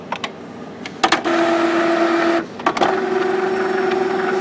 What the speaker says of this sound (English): I'm going to go to maintenance, nozzle check,